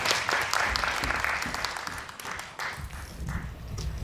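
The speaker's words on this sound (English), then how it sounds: "Let's give a warm round of applause to Ava DeMello." An audience at a children's speech competition applauds a finalist, a dense sustained patter of many hands clapping that fills the room and slowly thins out.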